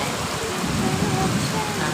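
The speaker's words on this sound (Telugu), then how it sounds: "తర్వాత ఇంత వర్షం పడడం ఇదే ఫస్ట్" Heavy rain pours down during a downpour heavy enough to send water running along the roads, making a steady, dense hiss that stays constant throughout.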